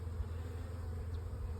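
Honey bees hum steadily around a capped honey frame from a hive, a close, continuous low buzz with no break across the short stretch.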